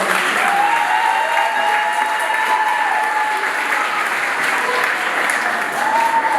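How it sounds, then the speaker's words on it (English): Steady, continuous applause from an audience at a junior school Year 5 assembly, a close, even patter of many hands with a faint thread of voice or cheering above it. "A round of applause to this one."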